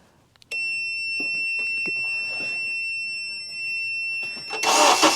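A 2007 Honda CR-V gives a steady electronic beep that holds for several seconds, then the engine cranks and fires up with a loud, broad roar at the very end.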